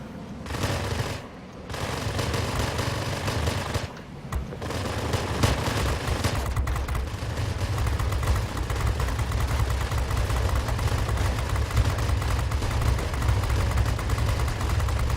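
Rapid, sustained .50 cal machine-gun fire from an F-84F fighter in the World of Warplanes video game, made of long dense bursts over engine drone with a couple of brief pauses between them.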